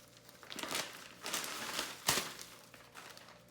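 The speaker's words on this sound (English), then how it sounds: "These large Ziploc bags that I have" A large plastic Ziploc bag crinkles in several bursts as it is handled close by during bacon curing, with one sharper crackle near the end and no talking.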